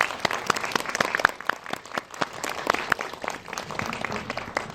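Audience applause at a Korean Film Academy graduation film festival screening Q&A as the director, crew and actors are called forward; a moderate crowd claps steadily with sharp individual claps standing out, no one speaking.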